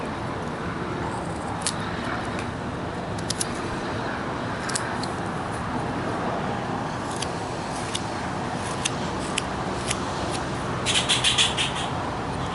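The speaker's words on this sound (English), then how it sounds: "you're going to hear some traffic noise" Outdoor road traffic makes a continuous low roar in the background, with a few faint bird chirps and small clicks on top.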